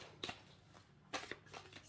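Tarot cards are shuffled in two quick riffling bursts, close and fairly quiet, with brief rustles between them.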